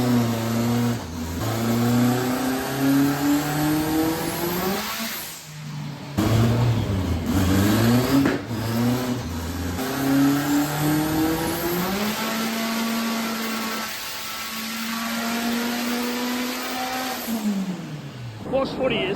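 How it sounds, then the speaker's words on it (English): A methanol-fuelled Renault 5 drag car runs on a dyno, its engine revving hard through repeated rising pulls and drops, loud and close with people talking over it. "watching a car on the dyno"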